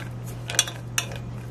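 A utensil stirs melting chocolate in a pot set over a pan of water, making two sharp scraping clinks against the metal above a steady low hum.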